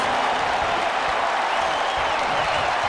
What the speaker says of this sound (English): The crowd here in New York firmly behind the American Dragon with the running knee.